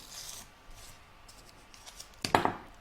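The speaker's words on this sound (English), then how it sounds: "turn my hoop over and remove the tape from here as well" Adhesive tape peeled off an embroidery hoop during in-the-hoop sewing: soft handling rustle, then one short, sharp, close ripping pull near the end.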